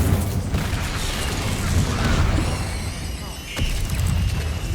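A fire spell cast in Hogwarts Legacy on PC, part of a rapid run of spellcasting, gives a dense whooshing burst with low rumbling booms over steady game noise. A sharp crack lands near the end.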